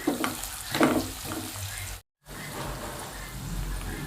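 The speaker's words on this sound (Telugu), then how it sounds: "ఇది ఒక ఫైవ్ మినిట్స్ ఇలా ఆయిల్లో వేగనిద్దామండి చూడండి ఇలా వేగిపోయాయి కదండి" Chicken pieces fry in oil with a soft, continuous sizzle and a few clattering stirs early on, close by and fairly quiet, broken by a brief silent gap midway.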